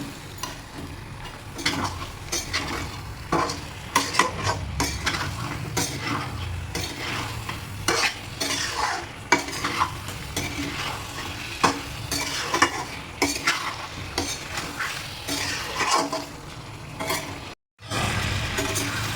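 Chicken and potatoes are stir-fried in a pan with a little water, the spoon scraping and clattering in steady, repeated strokes over a continuous sizzle, close and fairly loud, with a brief drop to near silence toward the end.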